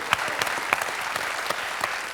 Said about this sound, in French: Oh là, j'applaudis.